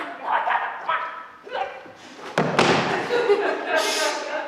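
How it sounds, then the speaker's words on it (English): An actor slipping and thudding onto a wooden stage during a high school production of Arsenic and Old Lace, a sudden heavy impact midway through, amid people talking and a busy stage bustle. "that was me, Johnny, I slipped."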